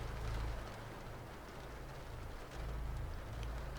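Steady rain pours down in a continuous broadband hiss with a low rumble, even and unbroken throughout, with no voices.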